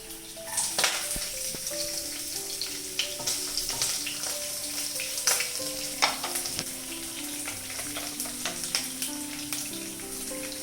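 Garlic frying in hot coconut oil, a bright continuous crackling sizzle with frequent spatula clicks and scrapes against the pan, close and fairly loud throughout, with no talking.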